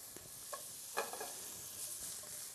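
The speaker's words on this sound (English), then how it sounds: "We're going to render them down into the pan." Pieces of chorizo cut up and rendering in a pan, giving a quiet steady sizzle with a few soft stirring clatters and scrapes, close by and without talk.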